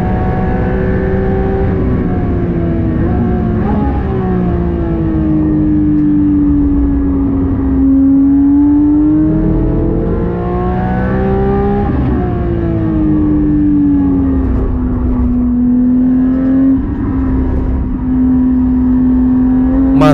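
A Porsche GT3 race car engine roars steadily during a race, with pitch rising and falling through gear changes, loud and continuous. No talking.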